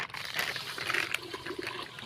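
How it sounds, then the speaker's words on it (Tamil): Water splashes and trickles as it's poured into a pot of rice, a soft continuous gurgle up close with no talking. "இப்போ தண்ணி அரிசி ஊற வைக்கிறதுக்கு தண்ணி கொஞ்சம் ஊற்றிக்கலாம்."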